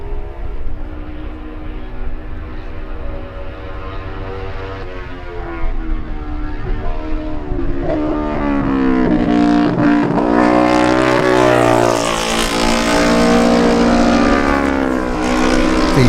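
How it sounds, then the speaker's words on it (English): Kawasaki lightweight racing motorcycles in the 2018 Manx Grand Prix Lightweight race scream past loudly, their high revving engine note climbing and shifting as the bikes close in and roar by. "The Kawasaki is a dominant bike type in this race."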